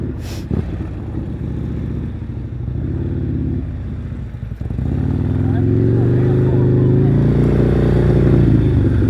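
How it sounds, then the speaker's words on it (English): A motorcycle engine idles and then revs higher during an advanced slow-speed riding practice session, holding a steady, fairly loud drone close by. "Revs are up nice and high."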